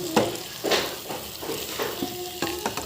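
Chicken and garlic fry in a pan with a steady sizzle, while a spoon scrapes and stirs in quick repeated strokes about twice a second, close and fairly loud.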